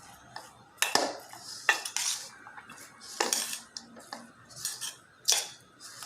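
A metal spoon clinks and scrapes against a pan while fish is stirred with onions and chillies for a sardine roll, making irregular sharp knocks with quieter scraping in between.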